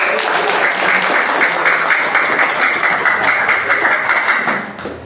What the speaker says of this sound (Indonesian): Kita kasih tepuk tangan sekali lagi.